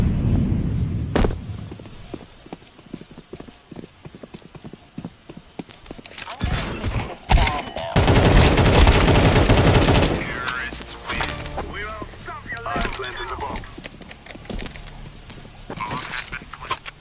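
Gunfire in a video game shooter plays as rapid bursts and sharp shots mixed with clattering, hoof-like rhythmic sounds and ongoing game noise, with a person talking over parts of it.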